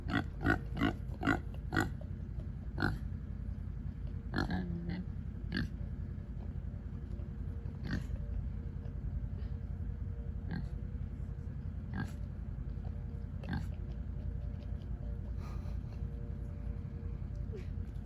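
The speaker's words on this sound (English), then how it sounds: "She's a cattle pig." A female pig gives a handful of short, rough grunts, clustered in the first few seconds and then scattered, over a steady low rumble of farmyard background noise.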